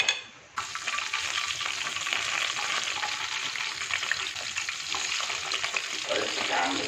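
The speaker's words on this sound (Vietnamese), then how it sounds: "Chiên mẻ tiếp theo." Betel-leaf-wrapped fish cakes (chả cá lá lốt) frying in a pan, a dense continuous sizzle that starts abruptly after a short pause and stays loud and steady throughout.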